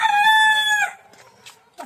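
A rooster crows once, loud and close, a bright drawn-out call that cuts off sharply, followed by a few faint clucks and small household sounds in a home kitchen.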